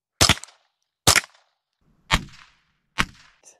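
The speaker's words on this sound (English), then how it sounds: "First gun up is going to be a Ruger 10-22, chambered in 22 long rifle." A Ruger 10-22 rifle fires .22 long rifle rounds at a metal plate: four sharp separate cracks spaced almost a second apart, each with a short ringing tail, with silence between.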